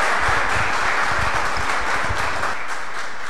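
Church congregation applauding together, a dense, steady wash of clapping with no talk over it.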